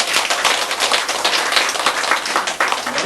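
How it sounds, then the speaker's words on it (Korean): An audience at a Buddhist lecture on the Vimalakirti Sutra claps together in a dense, even burst of applause that stays loud and steady from start to finish, with no talking. "박수!"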